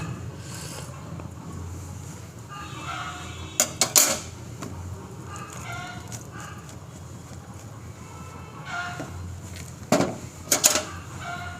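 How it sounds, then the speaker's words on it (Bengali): A spoon stirs a homemade cold-and-cough remedy in a pot, with faint scraping, two bursts of metallic clinks against the pot, and a low background hum. "একটু ভালো করে মিশিয়ে দিচ্ছি"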